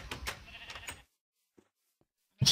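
A purple sheep bleating on a farm in the video game Minecraft: one short, clear bleat after a stretch of talk and near-silence, with a sharper bleat cut off at the end.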